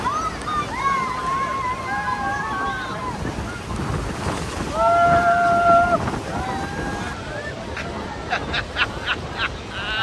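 Rushing water and wind roar steadily around a boat close to a powerful waterfall in Canada, with excited voices and cheers rising over the noise.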